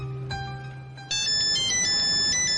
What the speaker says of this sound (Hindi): पुप्पी का फोन।